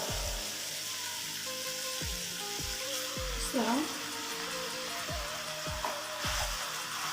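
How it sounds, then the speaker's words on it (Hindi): Steady sizzling of chicken macaroni frying in a pan with boiled spaghetti and pasta, with a few clanks of a utensil stirring against the metal throughout. "1 या 2 मिनट के लिए हम इसको ऐसे ही भून लेंगे"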